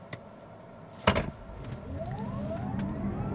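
A VinFast VF 8 Plus electric SUV launches hard from a stop on a straight road, a sharp thump followed by a rising electric whine that climbs steadily in pitch over steady road and wind rush.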